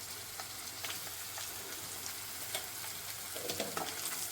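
Garlic frying in sesame oil with popped mustard seeds in a pan, giving a steady, close sizzle with faint crackles and a few light stirring clinks, no voices.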